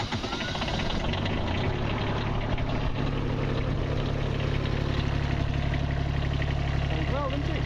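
A Bobcat engine runs at idle after an engine change, a loud, steady, close rumble with a rough knocking texture that continues unbroken for the whole stretch.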